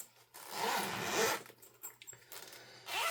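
A zipper on a pencil case is pulled open in a couple of close, rasping strokes, with short pauses and small rustles between them.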